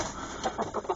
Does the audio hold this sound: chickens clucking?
yes